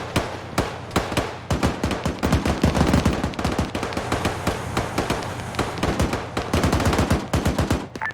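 A machine gun turret fires in the Arma 3 military game during convoy training, unleashing rapid sustained bursts of gunfire with sharp repeated cracks and brief gaps, loud and close with no talk.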